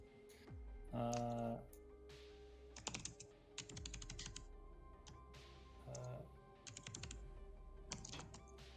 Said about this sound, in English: your typing is audible